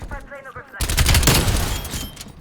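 Loud, dense gunfire from Call of Duty: Black Ops Cold War with an XM4 rifle, a sustained volley that bursts in after a short stretch of voices and keeps going to the end.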